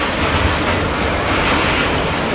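A CSX autorack freight train rolls past at night, a steady close, broad rumble of railcars with faint wheel clatter running throughout, no talk.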